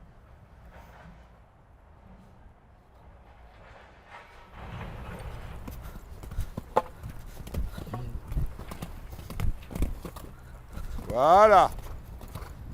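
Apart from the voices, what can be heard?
horse hooves clip-clopping during show-jumping training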